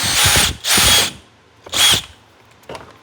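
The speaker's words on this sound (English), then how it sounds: "you can go ahead and drill this one too." Three short, loud bursts of a power drill spinning up and stopping, close by, drilling push-pin holes while installing a fender flare on a 2012-2017 Can-Am Maverick, followed by a faint click.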